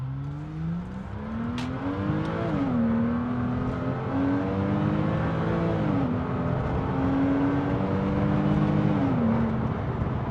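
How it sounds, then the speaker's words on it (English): A 2023 Porsche with a Tiptronic automatic gearbox accelerates hard in first gear, its loud engine note climbing steadily and dipping briefly a few times before rising again, with no voices. "put it into 1st gear. So we will do a 1st gear acceleration"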